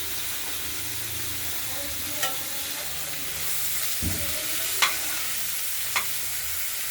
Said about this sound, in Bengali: এবার ভাজা ভাজা হবে, তারপর টমাটো দেবো, মশলা দেবো।